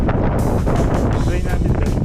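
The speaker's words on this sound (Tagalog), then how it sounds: "Lakas ng hangin. Sobrang lakas." Strong gusts buffet the microphone during a mountain bike ride in Calgary, Alberta, a dense low rumble that roars steadily through the whole stretch, loud and close.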